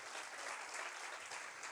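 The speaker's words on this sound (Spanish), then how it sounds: "Denle un fuerte aplauso a Dios." Church congregation applauding during a sermon, a continuous wash of many hands clapping, faint and distant but unbroken.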